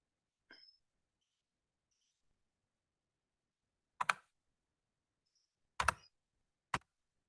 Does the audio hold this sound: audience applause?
no